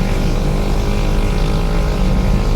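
A motorcycle engine straining loudly on an uphill ride, a continuous close, droning roar with no talk over it.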